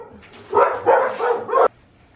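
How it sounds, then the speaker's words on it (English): Two dogs bark indoors in a quick series of four loud, close, yappy barks, then fall quiet. "when one starts barking, the other one starts barking"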